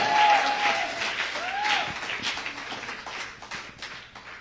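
Church congregation applauding, a sustained fairly soft patter of many hands clapping with scattered voices and exclamations mixed in, gradually tapering off.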